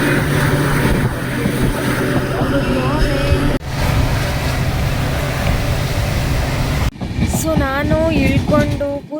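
A steady, loud rumble of a moving train, continuous throughout, with people talking over it in the latter part.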